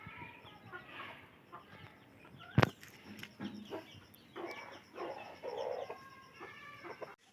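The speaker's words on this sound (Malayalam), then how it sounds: "കണ്ടോ ഇവരൊക്കെ നാടൻ തന്നെ കേട്ടോ നാടൻ കോഴി തന്നെയാണ്" Native country chickens, including white crossbred hens sired by a large white rooster, cluck and call intermittently at a household yard, with several overlapping bursts and a sharp knock partway through.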